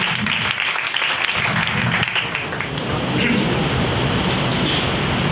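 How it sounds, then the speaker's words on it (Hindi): Sustained, loud applause from a church congregation at a prayer and fasting sermon, a dense even clatter of clapping that fills the whole stretch with no pause. "फिर जोरदार ताली मुझे कलाम की"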